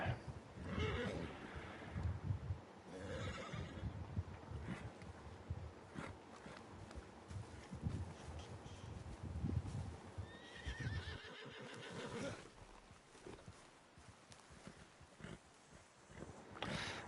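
A horse whinnies and snorts over steady clip-clopping hooves in Red Dead Redemption 2 Online, with ambient outdoor game sounds continuing throughout.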